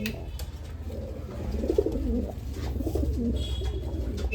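Pigeons coo in a cage, soft repeated low warbling calls rising and falling close by, with faint background noise and a voice talking quietly.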